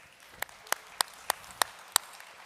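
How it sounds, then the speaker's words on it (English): Six sharp, evenly spaced claps ring out alone against a quiet room, sparse and isolated rather than a full crowd ovation, coming from an audience at a formal commemorative event honouring former national leaders. "let's give them a round of applause"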